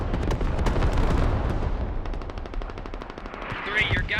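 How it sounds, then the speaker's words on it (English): A creeping artillery barrage in the video game Squad with a UN versus insurgents mod: dense, rapid booms and crackling impacts pound continuously, loud and close, thinning slightly toward the end. "Creeping barrage going over the hill and should mop up the second"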